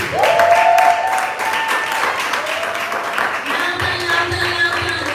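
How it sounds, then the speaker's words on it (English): A business event audience claps, a dense, sustained burst of applause from a crowd, loud and filling the room, with a voice speaking over it. "can you please give a big round of applause?"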